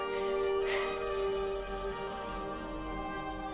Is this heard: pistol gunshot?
no